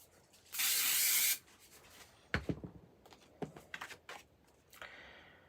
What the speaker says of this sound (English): And I'm just going to spray glue this onto it.